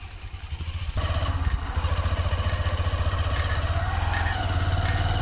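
Homemade electric bicycle starting up and running, a steady rhythmic mechanical hum and clatter that steps up in loudness after a second and continues close and unbroken.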